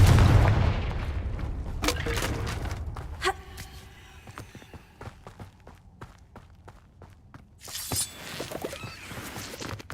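Confringo blasting spell in Hogwarts Legacy: a heavy explosive boom at the start fades into a string of sharp crackling impacts and scattered hits, and another burst of blasts comes near the end.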